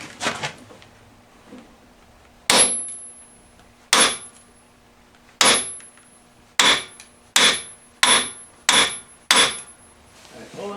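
A hammer taps metal on a Bobcat S185 Turbo front axle part: eight sharp ringing strikes, close and loud, spaced a second or more apart at first, then quicker toward the end.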